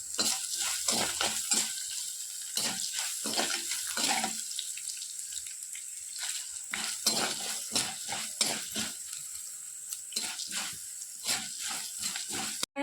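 Cashews frying in oil until golden while they are stirred, a dense hissing sizzle with frequent scraping and clicking utensil strokes throughout, close and moderately loud, without speech.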